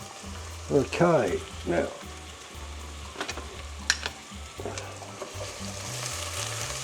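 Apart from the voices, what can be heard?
onions frying in oil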